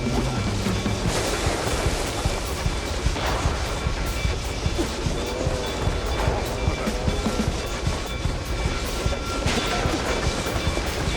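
Train rolling past in the video game Mouse: P.I. for Hire, a steady loud rumble with rhythmic clatter and wheel noise running continuously throughout, no voices.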